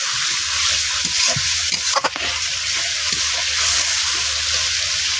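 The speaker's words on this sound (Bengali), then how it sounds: "এখন অল্প একটু জল দিয়ে মশলাটা কষিয়ে নেব" Masala spice paste with turmeric and salt frying in oil after a splash of water, a steady close sizzle with a few scraping stirs of a spoon through it, no voices.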